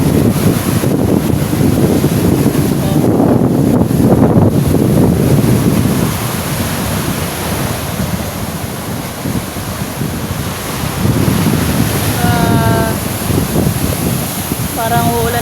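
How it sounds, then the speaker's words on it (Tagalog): Big ocean waves roll in close to shore under steady wind buffeting the microphone, a loud continuous roar of surf, with a person speaking intermittently over it. "ang laki ng alon. Ang lapit ng dagat."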